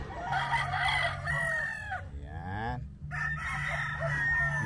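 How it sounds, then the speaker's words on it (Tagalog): A broodcock SBR rooster crows close by, one long drawn-out cock-a-doodle-doo with a rising and falling call in the middle, set among steady farmyard bird sounds and clucking. "Yan yung aking broodcock SBR."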